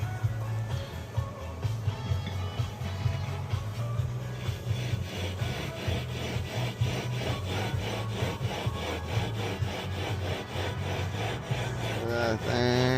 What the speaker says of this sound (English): Just rub it back and forth until you can kind of feel it.